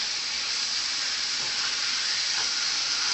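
A steak topped with blue cheese crumbles sizzles in a pan, a steady, close, bright frying hiss that barely changes as it is flipped.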